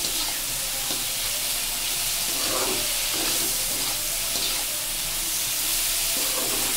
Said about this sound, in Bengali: ইলিশ মাছ খেতে গেলে তেলের প্রয়োজন, আর একটু তেল দিয়ে কষাচ্ছি